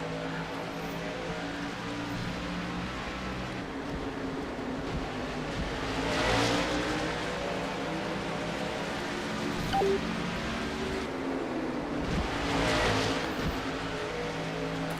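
Race cars speed around a virtual track at Key Fuego on Racers Island in a Second Life Fast Friday round, a steady engine drone with two louder passes swelling and fading, no talk.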